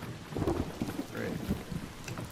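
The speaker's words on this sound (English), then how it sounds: "Did they change the way electromagnetic storms work?" Thunder and rain from an electromagnetic storm in a video game: a low rumbling roll under steady rain hiss, moderately faint and continuous, with a few scattered crackles.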